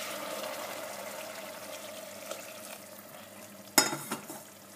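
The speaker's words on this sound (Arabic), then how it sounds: "وتوا نطفيها بشويه ماء" A splash of water is poured into a pan of simmering sauce for Tunisian sder with lemon and capers. It makes a faint hiss and trickle under low kitchen noise, with a brief sharp splash near the end.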